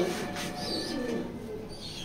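A racing pigeon gives soft, low coos up close, a short murmuring call with no voices over it.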